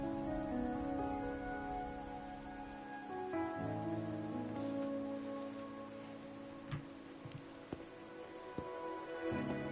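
Steady rain patters on surfaces in a quiet game scene in Wuthering Waves, a continuous soft hiss with occasional drips and light ticks, with no voices.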